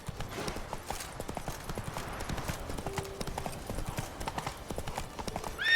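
Roach, a horse in the video game The Witcher 3, gallops with a steady, rapid clip-clop of hooves close by, continuous for the whole stretch and with no other sound competing.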